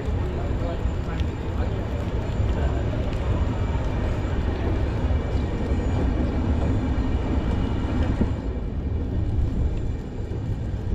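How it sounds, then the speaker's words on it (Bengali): The Rameswaram–Bhubaneswar weekly express pulls out of platform 2 at Mandapam station with a steady, loud, broadband rumble and rattle that holds without pause and eases slightly near the end. "মণ্ডপম স্টেশনের 2 নম্বর প্ল্যাটফর্ম থেকে আমাদের ট্রেন 9:14 ছেড়ে দিল।"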